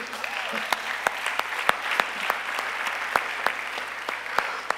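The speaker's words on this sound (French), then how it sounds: "Acclamons notre Seigneur." A church congregation applauding together to acclaim the Lord, steady rhythmic clapping in unison at a moderate pace over a busy room murmur.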